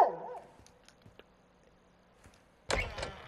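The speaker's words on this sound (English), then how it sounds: "This dog don't shut up." Dog barking in the video game Call of Duty Modern Warfare, a whining yelp at the start, then near quiet with faint clicks before a loud sharp bark bursts out near the end.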